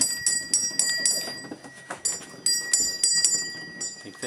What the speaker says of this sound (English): Who's ringing the bell?